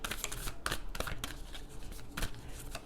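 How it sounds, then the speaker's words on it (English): A deck of tarot cards being shuffled continuously by hand, close and loud, with crisp riffling bursts and flutters throughout. "usually it takes a while to shuffle cards"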